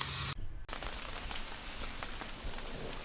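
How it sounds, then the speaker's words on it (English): Steady rain pattering on a tent during a stormy day at Huntsville State Park, a dense continuous hiss of drops close by, briefly dipping before resuming at an even level with no talk. "Been sitting out in the rain for the past 20 minutes or so."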